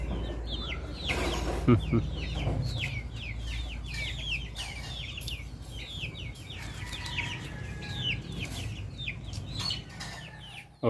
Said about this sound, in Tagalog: Nandito yung ibang manok natin, yung iba nakagala doon sa taas.